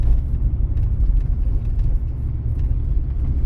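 A car rolls slowly in second gear along a badly potholed, bumpy town road, a steady low engine and tyre rumble heard from inside the cabin with no one speaking.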